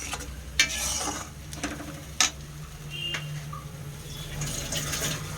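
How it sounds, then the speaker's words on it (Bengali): Poppy seed, cashew and melon seed paste being stirred in a pan for Bengali basanti polao, quiet scraping strokes with a few sharp clinks of the spoon against the pan over a faint low hum. "ভালো করে মিশিয়ে নেওয়া হচ্ছে।"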